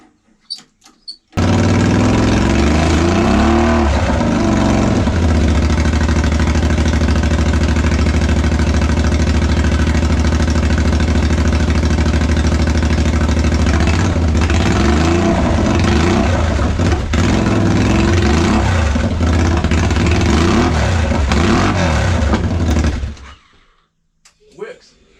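A homemade reverse trike's motor, clamped in place in first gear, runs loud and close for about twenty seconds, with repeated revs rising and falling before it cuts off.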